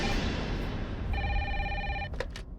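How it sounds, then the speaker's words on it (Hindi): An official landline telephone rings in a police office, a loud electronic ring burst followed by a couple of short tones over background noise. "कैसा फोन है, फिर भी बज रही है।"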